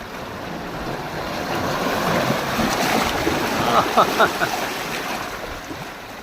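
Sea waves crash against rocks along a clear-water coast, a broad, continuous roar of surf that swells in the middle with some brief brighter splashes near the end.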